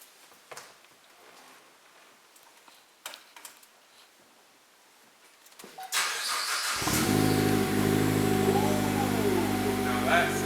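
A Chevy Sonic fitted with a ZZP turboback exhaust cranks and fires up after a quiet stretch of small clicks and shuffling, then settles into a loud, steady, deep idle right up close.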